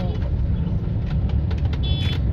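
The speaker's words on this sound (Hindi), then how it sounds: "ट्रैफिक का हाल देखें कि ट्रैफिक हो रही है थोड़ी" Busy city traffic in Karachi: a steady, dense rumble of cars and engines fills the whole clip, with brief higher tones near the end that may be a horn, and no clear talk.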